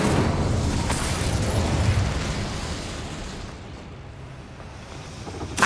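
A fire spell cast in the video game Hogwarts Legacy, heard as a loud sustained roaring burst of flame that fades gradually, with a sharp pop at the very end.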